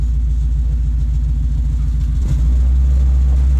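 Ford Lightning truck exhaust rumbling loudly and steadily at a low pitch, up close with no talking, with a slight swell in engine note near the end.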